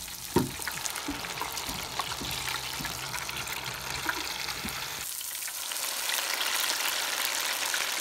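Steady crackling sizzle of food frying in a pan, continuous throughout with a few soft clinks early on and a slight surge in hiss near the end.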